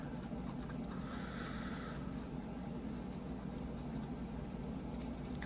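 Faint, steady scratchy rubbing as tape residue is scrubbed off with alcohol during disassembly of a Luft Concepts Avant, continuous and close under a low background hum.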